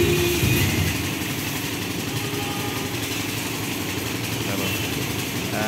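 A Royal Enfield Bullet motorcycle idles close by in India, a steady, low, rumbling engine throb that continues under someone talking throughout.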